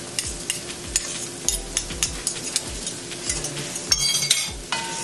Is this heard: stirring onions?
yes